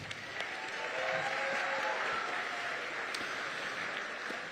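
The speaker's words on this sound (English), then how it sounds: "Give them a round of applause." A school concert audience applauds a middle school band after a spring performance, steady dense clapping filling the hall throughout at moderate distance, with faint crowd murmur and no speech.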